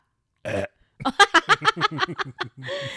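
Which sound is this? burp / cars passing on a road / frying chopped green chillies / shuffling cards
burp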